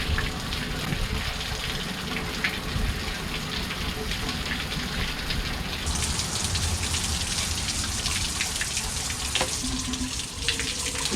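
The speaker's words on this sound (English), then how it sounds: "you notice the water's coming out everywhere, through the low water pickup, through the exhaust, through the propeller" Water gushes steadily from an outboard motor's exhaust, propeller and low water pickup during a flush, a continuous close, splashing hiss that holds throughout and brightens partway through.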